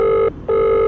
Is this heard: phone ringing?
yes